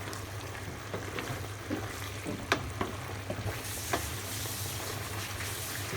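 Penne with tuna and lemon being stirred in a hot pan, a steady sizzle of frying under scattered scraping clicks from the spoon, close and continuous with no talking.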